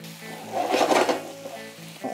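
Mushrooms tossed into a hot pan with Indian spices give a steady sizzle with a short stirring scrape, close by and without talk.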